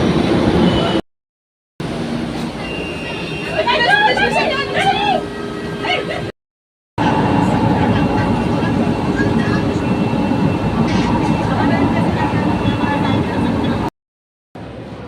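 Steady rumble of an MRT metro train in motion, with continuous rail and car noise throughout and brief gaps of silence.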